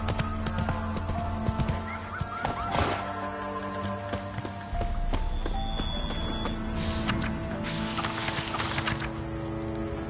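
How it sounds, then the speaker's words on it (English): Galloping horse in The Witcher 3 video game: continuous rapid hoofbeats clopping over a low game soundtrack, with a whinny partway through and no talking. "Run, Roach"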